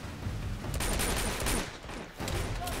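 Rapid gunfire bursts in Uncharted 2: Among Thieves, heard as loud, dense automatic fire with a brief lull before the shooting resumes.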